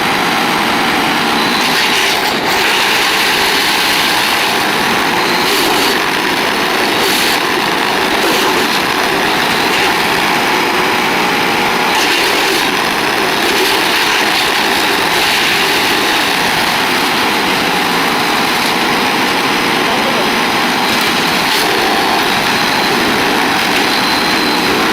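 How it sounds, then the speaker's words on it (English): A Vermeer BC 700XL compact wood chipper with a 25 horsepower engine runs at a steady, loud, high-pitched drone, heard close and alone throughout. "This is the Vermeer BC 700XL, a compact and reliable wood chipper designed for tree care professionals"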